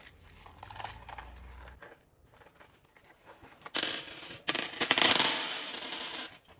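Loose change being handled while sorting cash envelopes, with soft metallic clinks and rustling that grow into a louder cluster of jingling coins near the end.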